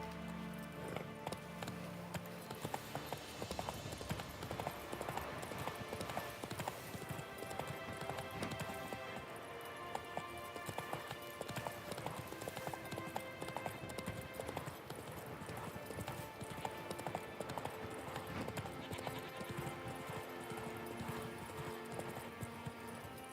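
Roach the horse gallops in The Witcher 3 on PS5, rapid rhythmic clip-clop hoofbeats running continuously over a dense game soundtrack and ambience.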